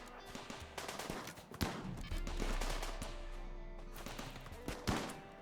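Mini turrets firing in the colony-building game Rimworld, sharp gunshot bursts scattered across the moment, some louder and closer, with a low rumble between them and no one talking.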